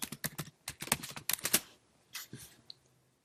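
Fingers tap out text on a computer keyboard in a quick run of crisp keystrokes, then a pause and a few scattered final clicks, close and clear with no voices.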